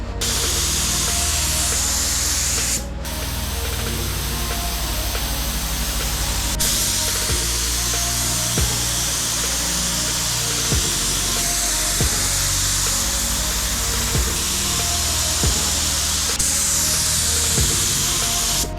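Steady hiss of a spray gun laying a plum-coloured base coat on a Nissan Z car, a loud continuous airy spray with a brief break early on and no talking.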